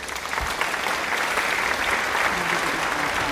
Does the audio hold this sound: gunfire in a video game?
no